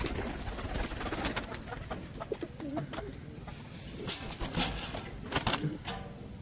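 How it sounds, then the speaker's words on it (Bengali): A trapped dove inside a pigeon coop gives soft coos and wing flutters, close and fairly quiet, with a few sharper rustles and knocks toward the end. "তো ফের এই দেখো একটা ঘুঘু পাখি"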